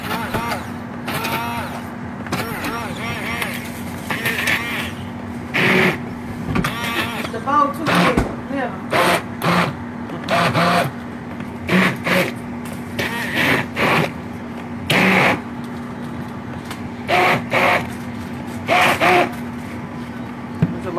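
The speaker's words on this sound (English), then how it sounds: "I got my little mixer right here. And this will make it into refried beans." A small kitchen mixer whirs steadily as it blends cooked pinto beans into refried beans, a constant motor hum running under frequent nearby talking.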